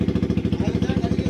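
Close, loud, steady thumping from a KTM Duke 250 motorcycle with an aftermarket exhaust, its exhaust pulses evenly spaced throughout.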